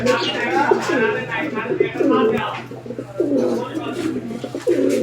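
German shield fancy pigeons in breeding condition coo repeatedly in a loft, giving close, throaty rolling calls in several bursts, with a person's voice faintly in the background.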